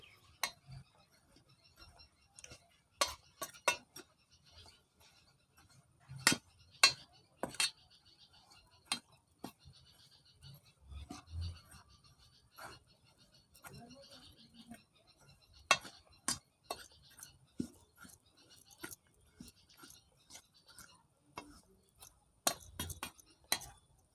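Ajwain, black salt and a third ingredient stirred together in a small glass or steel bowl, giving scattered sharp clinks and taps of a spoon against the container at an irregular rhythm, fairly faint and close.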